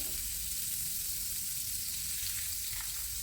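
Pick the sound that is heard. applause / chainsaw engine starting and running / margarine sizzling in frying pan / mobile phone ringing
margarine sizzling in frying pan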